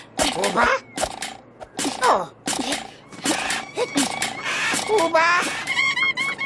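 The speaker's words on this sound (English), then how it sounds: "Wait, what's wrong with all the birds? Those birds look terrified." Cartoon birds cry out in frightened, squawking bursts, shrill and frantic, coming in short loud volleys with brief gaps and piling up toward the end, in an animated scene near a dormant volcano that may have become active.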